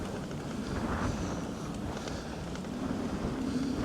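A strong headwind buffets the microphone while cycling along a field route on the EuroVelo 15, making a loud, continuous low roar that rises and falls slightly with the gusts.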